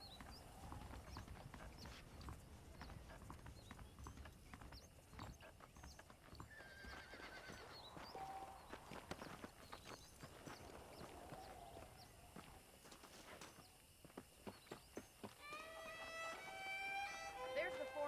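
Saddled horses in the video game Red Dead Redemption, with hooves clip-clopping and occasional whinnies over an outdoor ambience, followed by faster hoofbeats near the end, with game dialogue heard at times.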